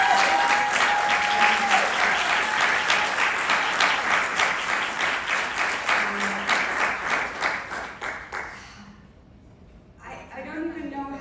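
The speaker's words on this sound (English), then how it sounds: "So can we just applaud again?" Loud sustained applause from an audience at a Q&A with Chanel Dupree fills the room for about eight seconds before fading out, then a voice begins speaking.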